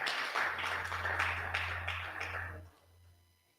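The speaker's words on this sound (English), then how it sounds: "Can we give him an applause," Audience clapping for a guest introduced at an IPOB unity convention in South Africa, a scattered burst of hand claps in a large room that carries for a few seconds then drops off abruptly, with a steady low hum underneath.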